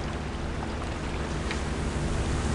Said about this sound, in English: There is a motorboat, speeding through waves.